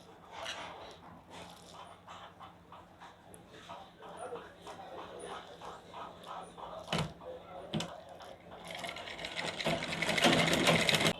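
Sewing machine stitching a button placket on a lined blouse, a whirring run of stitches that starts soft and swells louder toward the end, with scattered handling knocks and speech in places.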